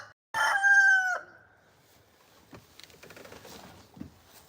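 A rooster crows once, loud and near, a single strained call just under a second long, followed by faint rustling and scattered clucks in the quiet yard.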